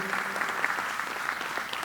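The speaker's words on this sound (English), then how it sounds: "I would love to hear a round of applause for our presenters today" Conference audience at a trade show applauding presenters: a short burst of steady, moderately loud clapping from a seated crowd, sustained without pause.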